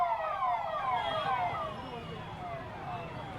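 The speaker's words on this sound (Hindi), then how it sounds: "जैसे ही सायरन बजना शुरू हुआ" An air raid siren wails during a mock-drill blackout, its rising and falling tones sweeping steadily and loudly throughout, with a low rumble of city background underneath.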